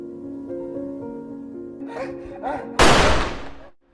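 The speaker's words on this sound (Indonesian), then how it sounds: "Tapi suara tembakan terdengar" Over a quiet musical backdrop, a single sharp, loud gunshot bursts out and then quickly fades away.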